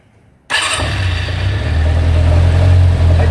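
A Kawasaki Zephyr 400 motorcycle engine cranks and catches after a quiet moment, then settles into a loud, close, steady idle with a deep, even rumble.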